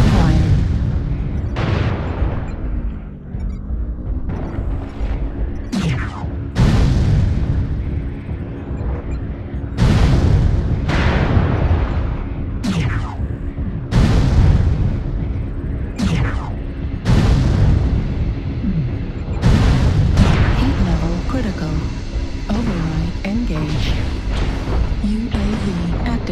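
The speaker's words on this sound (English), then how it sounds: "Artillery strike activated." Artillery strike explosions in a video game battle, a long run of heavy booms landing every second or two, each a sharp loud blast trailing into rumble, with a low steady hum underneath.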